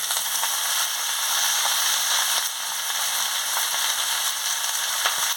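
Chopped vegetables sizzle and fry steadily in a hot pan while cooking a Malabar spinach raita, a constant close hiss with faint crackles and no talking.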